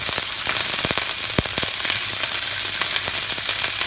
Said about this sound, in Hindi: ऑयल हमारा गर्म हो गया है, अब इसमें हम सारी वेजिटेबल्स डाल लेंगे। और इसको हम बस 2 मिनट तक फ्राई कर लेंगे।